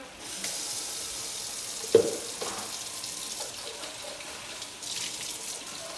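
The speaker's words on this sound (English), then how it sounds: "I'm gonna add a little bit of water" Water poured into a cooking pan of frying squash runs steadily for several seconds, with a brief clink partway through and a fainter splash near the end.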